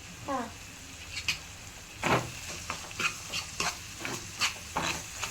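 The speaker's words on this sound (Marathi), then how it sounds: "थोडं आपण टोमॅटो शिजवून घ्यावं कांदाने" Tomato and onion cooking together in a pan for an egg fry gravy, giving a low sizzle with a series of scattered spatula stirs and scrapes at close range.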